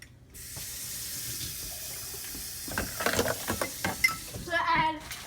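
Water runs steadily from a kitchen tap for several seconds to dilute sweet lemonade concentrate, a soft hiss that turns splashier toward the end.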